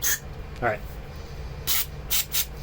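Aerosol cleaner spraying through the jet passage of a Troy-Bilt lawn mower carburetor, heard as several short, close hissing bursts spaced apart, with a brief voiced sound between them.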